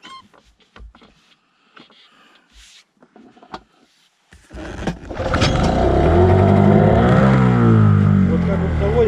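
A Tohatsu outboard boat motor, fed petrol mixed with oil, is cranked with a few short clattering pulls and then catches, settling into a loud, continuous running drone close by.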